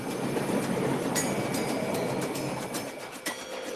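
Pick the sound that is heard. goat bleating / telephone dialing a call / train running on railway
train running on railway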